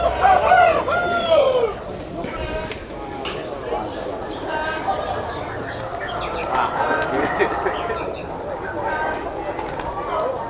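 Pigeons coo at the Sapen pigeon market in Wonosobo, soft repeated calls mixed with chirps and market bustle, while people talk nearby and a loud voice dominates the opening.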